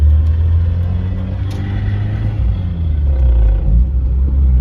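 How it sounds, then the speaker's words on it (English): Gearbox noise from a Nissan Sentra with gears not disengaging properly: a loud, close low rumbling drone with a grinding mechanical hum that swells and dips over a few seconds, no voices. "it really just sounds like the gears aren't disengaging properly"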